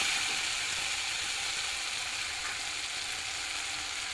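Tamarind fries in a pan, giving a steady, even hiss of sizzling oil that holds at constant loudness throughout, with no voices.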